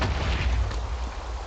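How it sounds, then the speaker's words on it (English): Explosion in the video game Minecraft with the Mystcraft mod, a loud broad burst of rumbling noise that fades slowly over a second and a half. "Explosion."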